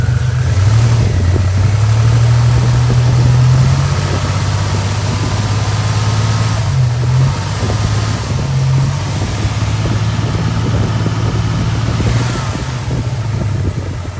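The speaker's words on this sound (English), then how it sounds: "Let's give it just a little throttle and see what happens." An abandoned one-owner 32,000-mile Buick Grand National turbo engine idles loudly and close, its throttle blipped into brief revs with a dip in between before it settles back to a rough, steady idle.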